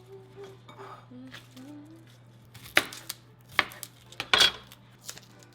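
Metal pots and pans are pulled out of a home oven, making a run of sharp clanks and clatters that grow busier and louder toward the end over a low steady hum, with faint speech early on.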